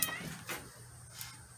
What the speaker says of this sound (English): The farm cat got up on the table.